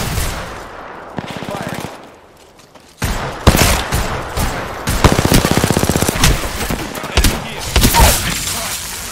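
Rapid automatic gunfire in the battle royale game Apex Legends, with loud close bursts of machine-gun fire repeating in clusters, separated by brief pauses and heavy impacts, with some speech mixed in.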